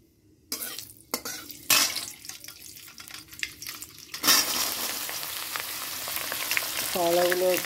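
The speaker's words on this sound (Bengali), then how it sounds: "এখানটায় কড়াইতে তেল দিয়ে দিয়েছি, আর দিয়ে দিয়েছি শুকনো লঙ্কা আর মেথি।" Dried red chillies and fenugreek seeds hit hot oil in a wok: a few sharp crackles, then a sudden loud burst of sizzling that settles into a steady, close, hissing fry with no one talking.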